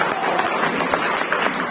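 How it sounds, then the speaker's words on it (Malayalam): Audience applause at an RTC celebration event, a dense steady wash of many hands clapping together, loud and close, continuing evenly throughout without talk. "നല്ലൊരു കൈയടി കൊടുക്കണം."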